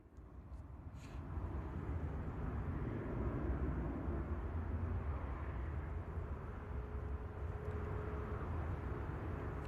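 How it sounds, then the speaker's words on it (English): A Ryanair Boeing 737 departs Bristol Airport. Its jet engines make a distant, steady roar that holds throughout, with no talk. "What a noise from the gorgeous Ryanair Boeing 737 departing from Bristol to Valencia."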